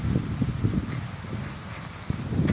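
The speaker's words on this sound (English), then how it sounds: "the rain just happens to be driving right across that farmer's field" Steady heavy rain driving across a farmer's field beside a highway on Prince Edward Island's Confederation Trail, with a dense broadband wash and gusty low rumble, fairly close and continuous, no voices.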